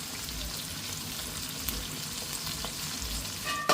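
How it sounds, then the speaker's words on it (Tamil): Big onions sautéing in a pan for a home-cooked curry, a steady close sizzle and crackle with faint stirring, no voices, ending in a brief louder clatter. "நல்லா வதங்கி வரட்டும் கொஞ்சமாக பெரிய வெங்காயம் போடும்"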